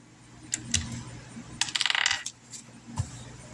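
Dice tumble and clatter down through a dice tower, a burst of sharp clicks and rattles with scattered taps before and after, close and alone without talk.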